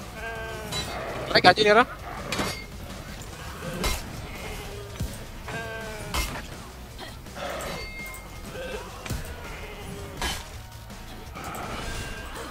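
Goats bleat in the video game For Honor during an April Fool's event, wavering cries repeating over clashing game sounds while players talk throughout.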